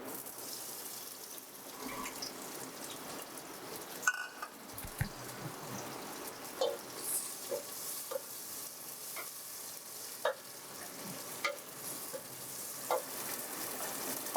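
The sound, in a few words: chopped tomatoes sizzling in hot oil in a pan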